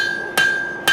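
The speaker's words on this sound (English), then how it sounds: "I'm going to keep forging the bevels out, doing the same thing I was doing before, just all the way down the blade" Two sharp hammer blows ring out about half a second apart, striking the bevels of a stainless san mai hunting knife blade during forging, each a close, bright metallic clang over a faint steady hum.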